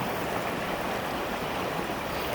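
Steady broadband rush of a creek flowing through woods, a continuous close wash of water with even loudness and no voices.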